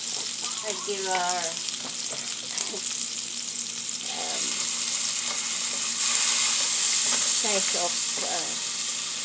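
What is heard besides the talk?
garlic sautéing in a pan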